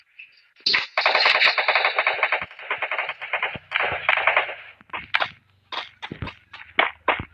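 Video game gunfire erupts as rapid automatic bursts while shooting an enemy: a long sustained volley, then a string of shorter, sharp separate shots, loud and close with no talk.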